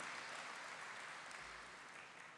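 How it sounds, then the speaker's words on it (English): An audience at a corporate tax seminar gives sustained applause for the event sponsors, a smooth, continuous wash of clapping heard faint and distant, slowly tapering off. "Let us appreciate our sponsors with a big round of applause."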